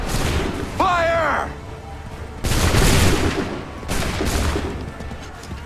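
Musket volleys fire in an Assassin's Creed III battle at Lexington, several loud crackling fusillades in succession with rolling rumble between them; a voice shouts once early on.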